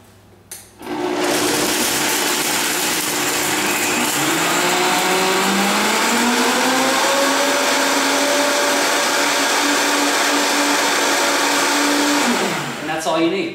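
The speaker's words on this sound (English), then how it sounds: "And we're gonna give it a quick blend." A blender runs steadily for over ten seconds blending a smoothie, a loud whirring roar whose motor pitch slowly shifts, starting abruptly and cutting off at the end.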